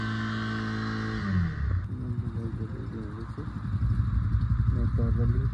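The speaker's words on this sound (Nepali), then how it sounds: "लोमाङथाङबाट बाइकहरू निकाल्दै हुनुहुन्छ साथीहरूले" Motorbikes being started and wheeled out in Lo Manthang for a ride toward the Korala border pass: engines rumble and idle unevenly, shifting in pitch as they rev, fairly loud and close, with voices mixed in.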